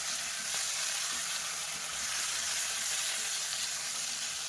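Stuffed capsicum sizzles in oil in a pan over a very low flame, a steady, even hiss with no talking.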